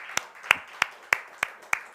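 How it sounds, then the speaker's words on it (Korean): A church congregation claps during a Wednesday worship service, welcoming returning mission workers; six distinct, evenly spaced hand claps ring out over a faint room murmur, sounding like a few people near the microphone rather than a full crowd. "계속 나오실 때까지 우리 박수 한번."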